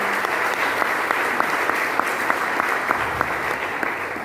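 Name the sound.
loud audience applause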